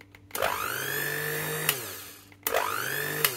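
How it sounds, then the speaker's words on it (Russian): A 25-year-old cheap hand mixer on its first speed spins up with a rising electric whine, runs steadily, then stops and starts again in two close, loud bursts with no talking. "у меня есть старый миксер, которому уже 25 лет"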